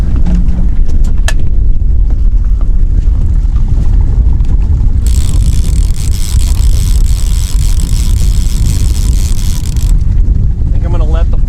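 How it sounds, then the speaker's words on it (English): Wind blowing across Raystown Lake during a fishing trip, buffeting the microphone in loud gusty rumbles with a brighter hiss in the middle stretch, and a little speech at the end. "A little bit breezy here, but I think I'm gonna manage this."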